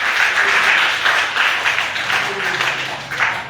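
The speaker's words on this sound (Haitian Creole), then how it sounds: "Bah, mon Dieu, applaudissement." Steady applause from a church congregation fills the space at close range, swelling and dipping in loose waves for several seconds with a voice faintly underneath.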